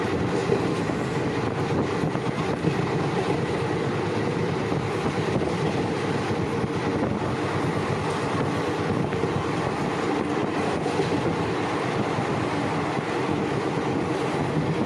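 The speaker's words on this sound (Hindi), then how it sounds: "ये हमारी ट्रेन रास्तों, घरों, खेतों को पार करते हुए अपनी जर्नी की तरफ जाती हुई" A passenger train running between Kharagpur and Sultanganj in Bihar, heard from inside as a steady, loud rumble with continuous rhythmic wheel clatter on the rails throughout.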